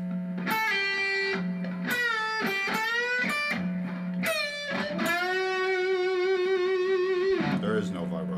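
Electric guitar with effects plays the melodic interlude solo phrase from a rock song, a run of bending, sliding sustained notes over a steady low drone, ending on a long held note.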